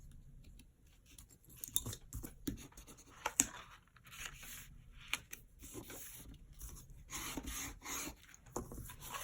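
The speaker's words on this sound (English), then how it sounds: "And then I'm going to peel this little guy up." Backing is peeled from adhesive on a paper treat bag, with close, quiet rubbing and scratchy paper rasps in uneven bursts and a few sharp little ticks.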